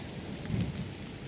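Rain falls steadily during a thunderstorm, a soft, even wash of patter with a faint low rumble swelling briefly in the middle.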